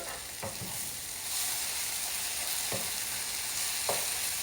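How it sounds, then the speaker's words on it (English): Tomatoes fry in a hot pan with a steady, close sizzle that grows slightly after the first second, broken by a few faint scrapes of stirring. "And now we're going to go ahead and let those tomatoes cook."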